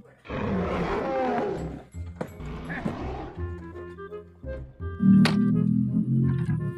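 A Triceratops dinosaur toy lets out several growling roars in short bursts, the first long and loud, then choppier ones ending in a strong final roar, heard alone without talk.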